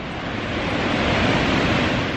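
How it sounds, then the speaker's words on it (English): High ocean surf at a coastal vista point roars as a loud, dense, continuous wash of breaking waves, with no voices over it. "the surf's really high right now"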